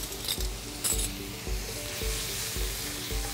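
Raspberry chipotle BBQ sauce with liquid smoke bubbles and sizzles steadily in a hot pan, a close, continuous crackle broken by a few soft stirring knocks, with no voices.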